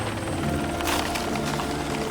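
Helicopter rotor and engine drone, loud and continuous with a dense, churning roar that swells slightly midway.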